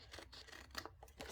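Scissors snip through paper as an orange header is trimmed for a Happy Planner spread, a quiet, close series of short cuts and rustles at an uneven pace.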